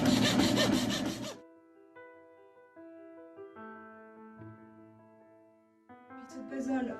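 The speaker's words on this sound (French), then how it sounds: "Cette scie est très grande et me permet donc de découper les morceaux avec un va-et-vient, comme un peu une machine à coudre." A large marquetry saw cuts wood veneer with a rapid back-and-forth blade, loud rhythmic rasping at the start and again at the end, with a quiet stretch of faint tones between.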